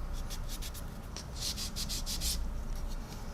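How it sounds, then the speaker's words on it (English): Quick back-and-forth rubbing of a sanding stick over raised detail on a small plastic part of a 1/8 scale Mustang model engine, close and continuous, with rhythmic bursts of scratchy friction. "Just going to take my sanding stick and over the raised detail"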